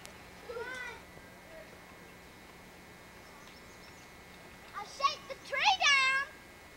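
A kitten at an Easter family gathering gives a faint meow early on, then a cluster of sharper high meows near the end, over a quiet room hum.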